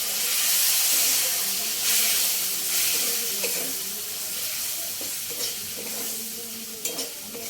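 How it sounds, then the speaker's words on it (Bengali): A small splash of water hits spice masala frying in a pan for restaurant-style Chinese noodles, giving a loud hissing sizzle with steam and stirring scrapes throughout. "সামান্য একটু জল অ্যাড করে দেবো।"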